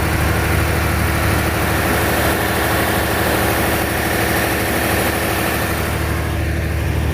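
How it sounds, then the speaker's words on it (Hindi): Large generators running aboard the Karakoram Express produce a loud, steady engine drone with a low rumbling vibration, unbroken for several seconds. "ये जनरेटर चल रहे हैं इसके अंदर, इतने बड़े बड़े जनरेटर लगे हैं।"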